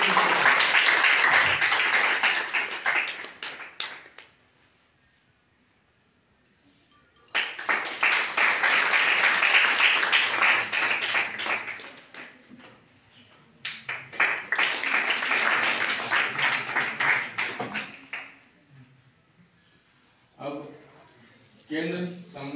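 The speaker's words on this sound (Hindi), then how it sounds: "जोरदार तालियों" Audience at a college ceremony bursts into loud applause in three long rounds separated by quiet gaps, with a brief voice heard near the end.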